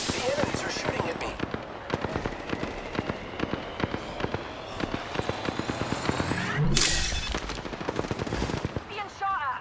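Rapid enemy gunfire in the Apex Legends battle royale shooter: dense bursts of automatic shots, loud and close, with overlapping cracks continuing throughout and a brief swell near the end.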